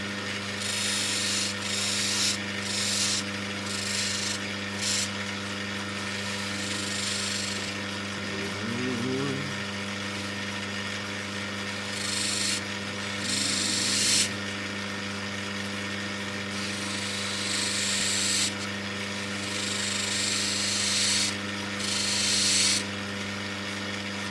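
Raw Australian opal is ground on a grinding wheel, a steady close rubbing and whirring hum with intermittent scraping bursts as the stone is pressed against it, and someone talks briefly partway through.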